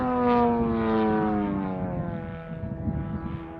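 A Great Planes Extra 300S RC airplane, red and white, drones steadily through a loop, its propeller engine whine holding strong and sliding lower in pitch as it climbs and turns, fading slightly toward the end.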